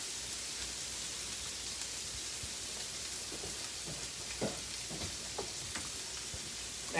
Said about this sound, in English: So I turn down my sauce to low. Just want it to be bubbling and boiling just a little bit.